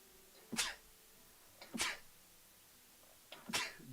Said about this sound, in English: I hate sneezing.